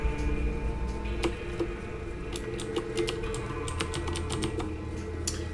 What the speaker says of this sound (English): I have a Razer mechanical keyboard, so the keys are loud.